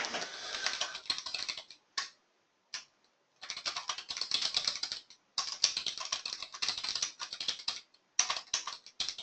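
Fast typing on a computer keyboard, dense bursts of close clicking keystrokes broken by short pauses, alone with no talking.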